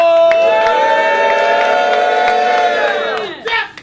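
A loud crowd at a rap battle event roars with sustained cheering and shouting, voices blending into a wall of noise that fades near the end before a final burst.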